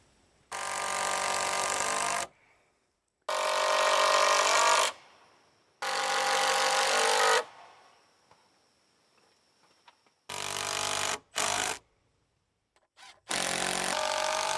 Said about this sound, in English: I'm going to screw a couple boards to the bottom of my rafters